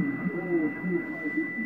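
A faint ham radio station comes through a Yaesu FTDX-101D transceiver, a weak murmuring signal with a steady tone over background hiss, heard alone for under two seconds.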